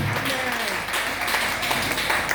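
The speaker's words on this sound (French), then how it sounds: "Acclame très fort le Seigneur" A church congregation applauds and cheers in praise of the Lord, a dense, steady wash of clapping and raised voices filling the room without a break.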